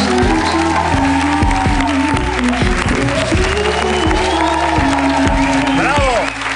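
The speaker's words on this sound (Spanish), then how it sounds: "Un aplauso para Johann Stotel, que está aquí" A studio audience at the Spanish TV show El Hormiguero breaks into loud, sustained applause with cheering and whoops, a dense crowd roar filling the room while tonal music and voices sit underneath.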